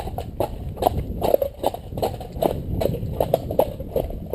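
A cob horse trots at a relaxed, steady pace under a rider, hooves clip-clopping in an even rhythm of close, distinct beats with no speech over them.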